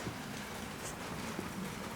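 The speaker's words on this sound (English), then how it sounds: "listening to the rain." Steady rain drums on a tin carport roof on a rainy evening, a soft, even patter that holds without a break from start to end.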